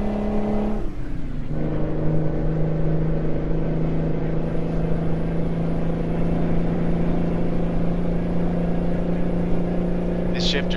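Mack Superliner truck engine with turbo in American Truck Simulator, a steady loud diesel drone holding one pitch after a brief shift early on, with talk over it.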